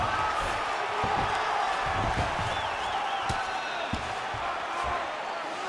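A steady crowd roar fills an arena in a UFC 5 mixed martial arts video game bout, a dense wash of cheering with faint thuds and a brief whoop rising through it.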